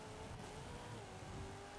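Game car with a 6.2 liter V8 in Forza Horizon 5 accelerating hard, a brief continuous engine roar with a shifting pitch and faint tire noise, steady and alone.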